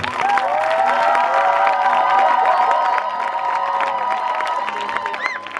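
A church congregation cheers and acclaims the Lord during a sermon, a loud, close crowd of shouting and whooping voices, with high ululating cries, sustained for several seconds.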